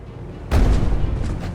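Cannon fire in the fantasy strategy game Age of Wonders 4: a single heavy boom lands abruptly partway through, its low rumble rolling on with crackling debris to the end, loud and close.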